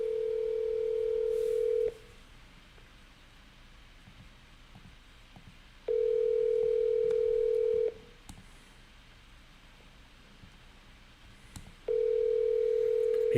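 A telephone dial tone sounding while a call is being placed, a steady loud tone that plays in long bursts of about two seconds separated by silent gaps of roughly four seconds, repeating three times.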